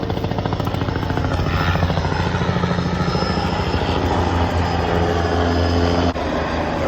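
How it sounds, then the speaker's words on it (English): Air National Guard military helicopter rotors thump steadily and loudly overhead, a continuous droning beat with no voices. "the Air National Guard likes to fly their helicopters around me"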